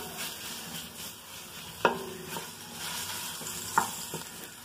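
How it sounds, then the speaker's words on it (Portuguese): Garlic frying in hot lard in a pot, a steady low sizzle running throughout with two sharp clinks of a utensil against the pot. "nessa panela aqui que eu já tenho banha aquecida, eu vou refogar um pouco de alho"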